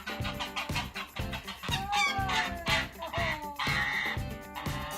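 A goose calls loudly and repeatedly on reuniting with its owner, a run of harsh, rhythmic honks close to the microphone, with no talking.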